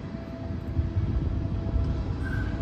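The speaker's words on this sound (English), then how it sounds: "Train's going by there." A train passes somewhere nearby as a steady, broad low rumble with a faint sustained tone above it. The sound runs throughout without talk.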